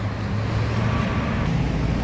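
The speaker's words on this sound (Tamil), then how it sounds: "லாரி போகுது பாருங்க" A lorry passes on a road in steady rumbling traffic noise, a continuous broad low engine and tyre roar that stays loud throughout the short stretch.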